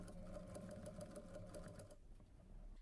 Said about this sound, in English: After everything is set to go, I start sewing and built a little rectangle frame around the hole.